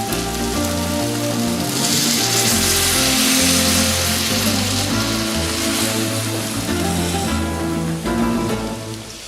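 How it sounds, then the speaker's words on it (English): Beef stock is poured slowly into a sizzling beef paella, giving a loud, steady frying hiss that runs almost the whole time, with no talking over it. "Let's add slowly our delicious beef stock"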